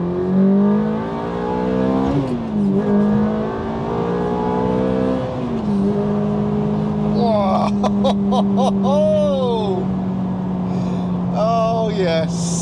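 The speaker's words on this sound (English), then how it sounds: "See what I mean about the noise? That is a great sounding car." A manual Ferrari F430 in race mode accelerates hard in second gear, its engine note climbing loudly through a sharp rising wail, with gear-change dips along the way. People talk over the engine and react to it.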